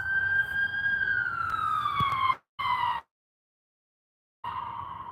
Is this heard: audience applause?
no